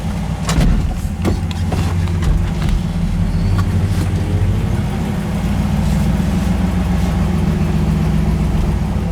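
A 1954 Mercury Monterey's engine runs on a cruise, a steady low hum with a few sharp clicks and knocks early on, constant and moderately loud without talk.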